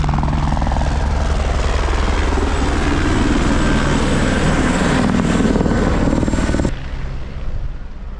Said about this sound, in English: I'm being disturbed by the helicopter again